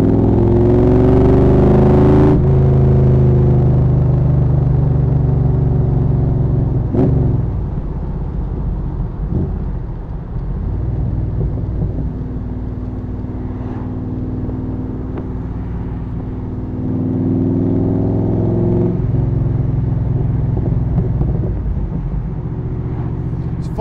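An AC Cobra with an aluminium V8 cruising in fifth gear at about 50 mph and 1500 rpm, a steady deep engine drone close up, easing and swelling with throttle, heard alone.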